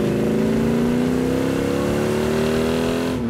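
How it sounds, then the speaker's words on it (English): A loud Superbird conversion car engine with dual quad carburetors revs and roars continuously, its deep rumble climbing gradually in pitch before cutting off abruptly. "That is one snarler of an engine."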